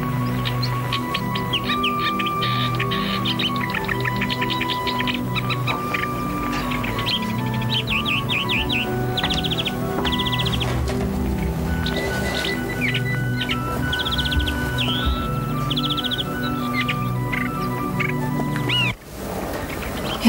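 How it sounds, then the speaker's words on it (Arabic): A bulbul sings in an animated series, with bright, rapid chirps and warbling phrases running continuously over a steady musical backdrop. "يا الله، ما أجمل ألحانها وتغريدها، بل ما أجملها من طير"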